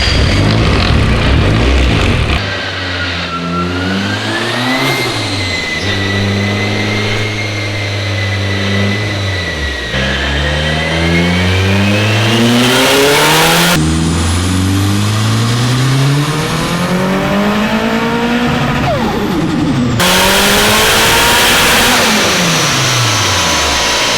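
Nissan S13 on a dyno running E85 fuel, engine pulling hard through repeated climbing revs, each sweep rising steeply then dropping back, loud and continuous throughout with no talk.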